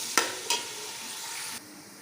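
Onions frying golden brown in oil for chicken Bombay biryani give a steady close sizzle, broken by two sharp clinks of a utensil against the pot near the start.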